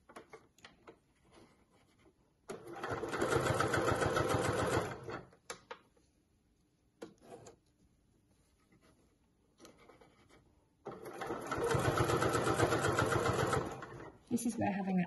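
A sewing machine with a heavier needle stitches through four thicknesses of folded fabric for a clutch bag, two long runs of fast steady whirring, close and loud, separated by quieter handling noises and talk.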